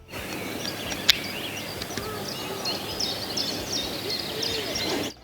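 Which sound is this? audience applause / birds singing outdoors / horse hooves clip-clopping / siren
birds singing outdoors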